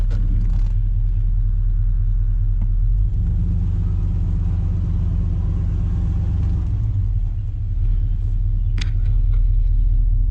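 A Chevy or GMC vehicle is shifted into drive and creeps forward, its engine a loud, steady low rumble that holds throughout with a slight dip near the end.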